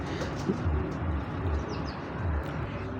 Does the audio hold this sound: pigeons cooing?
yes